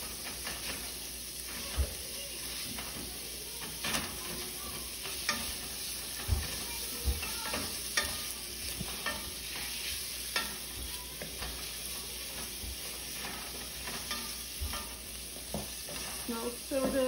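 Sausage sizzling in a pan while a utensil breaks it apart, a soft steady frying hiss punctuated by irregular scraping and tapping strokes against the pan, fairly quiet and close, with no speech.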